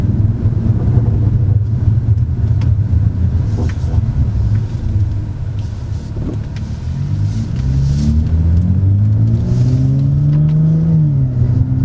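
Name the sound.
car turbo spooling while accelerating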